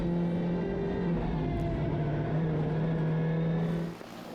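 Ford Fiesta rally car racing on a special stage, a loud close engine drone with a steady high note that holds and then drops off near the end as the car eases or moves away.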